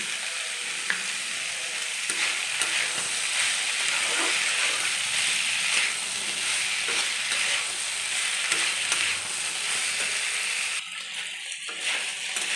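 Banana stem frying and being stirred in a pan, a continuous close sizzle with intermittent scraping strokes and light clinks, dropping briefly quieter near the end, with no one talking.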